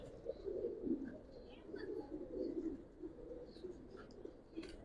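Giribaz pigeons in an Old Dhaka loft coo softly and continuously, low throaty murmurs overlapping with faint chirps in the background.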